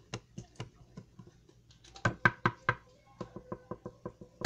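Sharp knocks on a hard surface in a house, scattered single raps at first, then a quicker irregular burst of loud knocks, fairly close and quiet overall with no talk over them.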